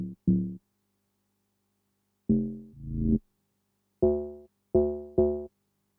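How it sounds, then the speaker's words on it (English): An amapiano log drum preset in FL Studio plays short, deep, pitched thumps alone: two quick hits, a pause, then a pair and a final group of three, each decaying fast. "So I use the log drum."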